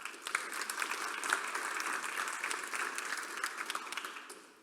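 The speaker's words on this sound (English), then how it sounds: "So please give yourself a warm applause." An audience at a startup demo day applauds, a dense, steady wash of many hands clapping at once that holds at an even level for several seconds before fading toward the end.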